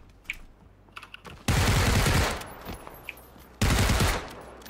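Bursts of automatic gunfire in PUBG, two loud sustained volleys close by separated by quieter moments with scattered single shots and clicks, no voices.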